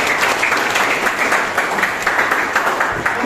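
Steady classroom applause from a group of students during a role-play lesson, dense and continuous clapping filling the whole stretch at close range without pauses.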